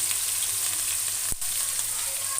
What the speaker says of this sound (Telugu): ఉల్లిపాయ మిక్స్ నూరు పెట్టాను కదా అది అందులో వేస్తున్నాను